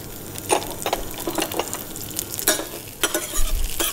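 Meat sizzles in hot olive oil with basil in a pan, a close, continuous frying hiss broken by sharp scraping bursts from stirring at irregular intervals.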